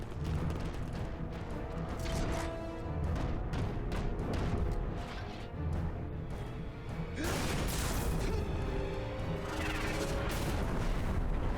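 Explosions in the Japanese version of the video game Dirge of Cerberus (Final Fantasy VII), loud continuous booming and crashing blasts with a sharp fresh burst near the end, no voices over them.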